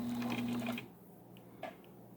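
A vintage Singer 15 sewing machine fitted with a step-down speed-reducer pulley stitches through fabric, giving a steady loud mechanical whir for under a second before it stops, then faint handling noise follows.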